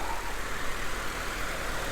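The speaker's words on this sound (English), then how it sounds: "The motor is nice and smooth." A Nissan Silvia S15 engine idles smoothly and steadily nearby, a constant low hum with a quiet exhaust and no voices.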